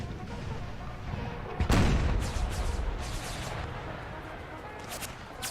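A loud Civil War cannon blast in an American Civil War game mod, one sharp booming shot with a rumbling tail, then scattered musket-like cracks and distant gunfire afterward.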